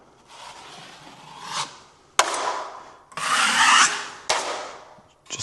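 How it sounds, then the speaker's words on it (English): A 12-inch drywall knife skims a thin, tight coat of joint compound over a wall crack. Four broad, close scraping strokes follow one another, each starting with a sharp edge and then dragging hoarsely across the surface. "So we want to skim it very tight."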